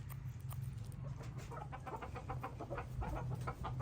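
Backyard hens cluck and squabble while scrambling over treats of protein, a busy, close run of short calls over steady background noise.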